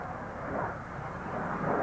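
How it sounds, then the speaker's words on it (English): A North American F-86 Sabre jet passes at a 1995 air show in Clark County, Indiana, a broad rushing engine roar that swells steadily and stays loud throughout. "From the right, the North American F-86 Sabre."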